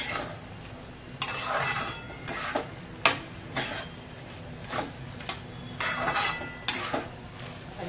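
Spatula scraping and stirring mixed vegetables, tomato paste, ginger-garlic paste and spices for veg pulao in a pan, with repeated bursts of clinking and scraping at an uneven rhythm, close and moderately loud.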